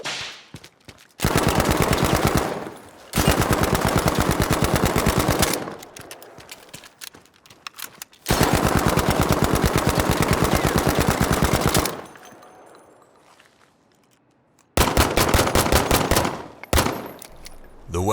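Bursts of rapid automatic gunfire in Battlefield V, several long loud sustained volleys separated by short pauses, with no talking.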